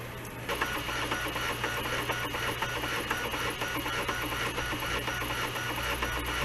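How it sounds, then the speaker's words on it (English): Brother ADS-2500We scanner's CD-ROM drive whirs and ticks during software installation, a faint, continuous mechanical hum with irregular light tapping throughout. "The CD-ROM's doing a little jig."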